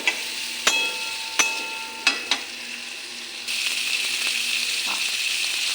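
Fried cauliflower and potato stirred into a filling in a hot pan: a steady sizzle with several sharp utensil clacks against the pan early on, close and moderately loud, with no talk.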